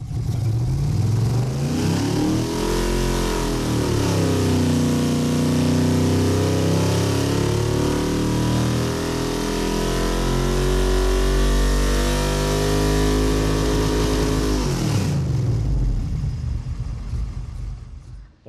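A Chevy V8 on a dyno pull revs up hard, its roar climbing and holding at high rpm for over ten seconds before the throttle cuts and the engine winds down, loud and close with no talk.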